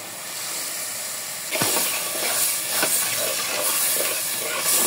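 Mung dal tipped into hot frying spices sets off a loud, sudden hissing sizzle that continues steadily after a quieter lead-in.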